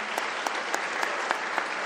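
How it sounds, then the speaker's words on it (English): Audience applause at a university academic year closing ceremony, steady dense clapping from a large crowd filling the whole stretch without a break, no voices heard. "I request that you give them a round of applause"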